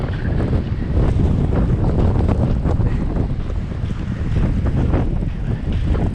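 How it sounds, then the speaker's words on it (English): Strong wind roars in a continuous, heavy buffeting rush across the microphone outdoors in Regina, Saskatchewan during a November blizzard warning, loud and unbroken with no voices. "Man, is that wind strong?"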